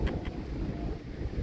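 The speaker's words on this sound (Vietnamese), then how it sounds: "Trên đây là gió là mát lồng lộng à" Strong wind gusting across an open hilltop at a spiritual site, a steady low roaring rumble buffeting the microphone without letup, with no talk.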